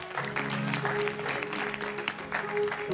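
A church audience claps steadily, with sustained musical tones and a few voices ringing underneath the applause.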